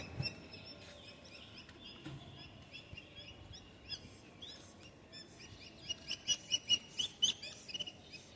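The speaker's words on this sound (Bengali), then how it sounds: "দেখো বন্ধুরা এগুলো বালি হাঁস আর এগুলো কিন্তু উড়তে পারে" Lesser whistling ducks, a family group, give faint high whistling calls that build into a quicker series of repeated notes toward the end, with other birds chirping softly in the distance.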